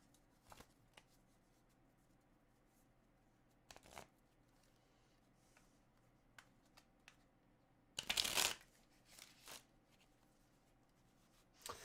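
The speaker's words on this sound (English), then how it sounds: "as I shuffle" Tarot cards shuffled by hand in a quiet room, heard as a few soft, brief riffling bursts with one louder, denser shuffle near the end, otherwise faint background.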